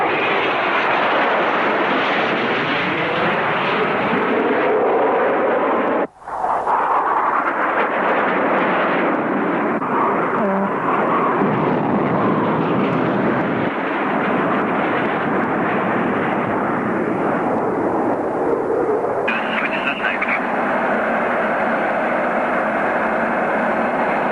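An F-4E Phantom jet fighter with slatted wings in flight, a loud continuous engine roar heard close from the aircraft, steady throughout with one brief dropout and no talk.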